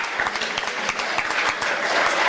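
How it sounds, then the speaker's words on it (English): Audience applauding at a high school sports awards ceremony, a dense continuous burst of clapping from many people in a hall. "Stand up, give your parents a round of applause."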